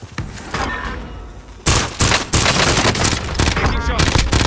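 Bursts of automatic gunfire and sharp single shots in Call of Duty Warzone, loud and close, rattling in rapid clusters with a sudden heavy volley midway, over game noise.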